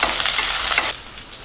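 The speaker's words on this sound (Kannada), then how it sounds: "ಸ್ವಲ್ಪ ಫ್ರೈ ಮಾಡಿಕೊಂಡ್ರೆ ಚೆನ್ನಾಗಿರುತ್ತೆ" Whole spices sizzle and hiss in hot oil in a pan for chicken biryani, a loud, close frying crackle with stirring that drops off sharply near the end.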